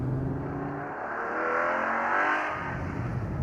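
A Ferrari FF's engine revs hard on a cross-country road, a loud, smooth whirring roar that swells and climbs through the middle, then eases back, with no talking.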